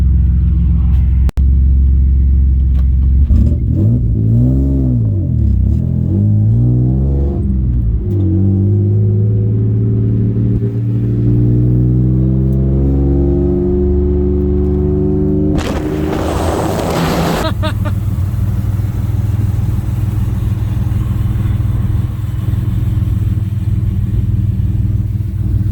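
Ford Taurus SHO engine droning steadily while driving, with rising and falling tones as it revs and shifts, a loud low rumble throughout and a sudden broadband burst near the middle.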